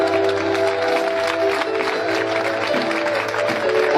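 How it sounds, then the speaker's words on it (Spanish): A congregation at a church service applauds in praise, steady crowd clapping layered over sustained organ or keyboard tones that hold throughout. "Bríndele fuerte aplauso al Señor"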